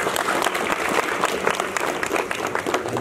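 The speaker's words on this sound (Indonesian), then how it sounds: "Mari kita berikan aplaus untuk Pak Yasan." A crowd at an Indonesian college anniversary ceremony gives Pak Yasan a short burst of dense, sustained applause, many hands clapping together at moderate loudness.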